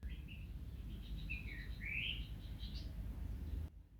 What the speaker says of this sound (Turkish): Arap bülbülü bu.